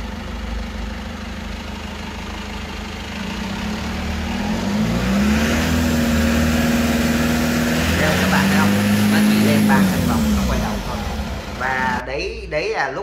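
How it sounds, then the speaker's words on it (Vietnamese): An Isuzu VM 1.9-ton truck engine with a weak-power fault runs in a stationary test, idling then revving up and holding higher revs before dropping back, with voices in the background. "bây giờ các bạn hãy thấy chúng tôi test thử cái động cơ này"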